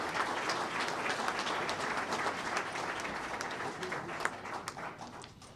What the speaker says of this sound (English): one more round of applause for these incredible,